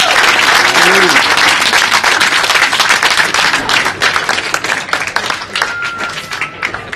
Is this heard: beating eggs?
no